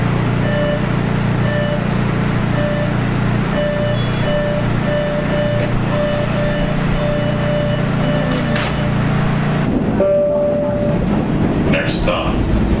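An MBTA Red Line subway train rumbles loudly between stations, with a steady low roar, a recurring high tonal whine, and a shift in the sound near the end as the train changes speed.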